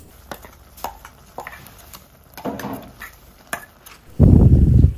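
Prawns and potatoes being stirred into ground masala in a pan, with scattered sharp spoon clicks and scrapes against the vessel, then a louder burst of sizzling and rustling mixing near the end.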